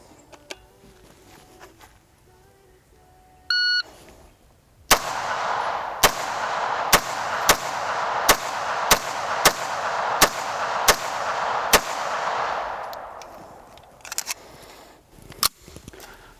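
A CZ 75 Tactica 9mm pistol fires at an outdoor range, about nine sharp, loud shots in a brisk steady rhythm with ringing echo between them, followed by a couple of scattered shots and brief handling noises.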